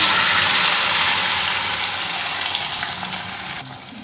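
Loud, close sizzling of ginger and garlic frying in hot oil, a bright steady hiss that slowly eases off and drops at the end.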